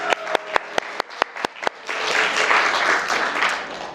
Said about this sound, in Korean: 잘했으면 박수.